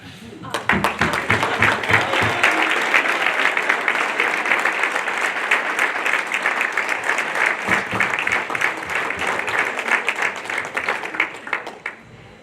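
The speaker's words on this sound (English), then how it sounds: "make them stand up so you can clap." A large audience applauds loudly and steadily for over ten seconds at a high school athletic hall of fame ceremony, with a brief lull partway through before the clapping swells again.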